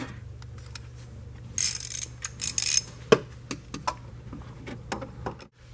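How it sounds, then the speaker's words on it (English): A wrench tightens the oil filter cap on a Land Rover LR2, quiet ratcheting clicks and short metallic scrapes in an irregular series, close by and otherwise fairly still. "Run it in by hand until it snugs up, and then we'll tighten it up with the wrench."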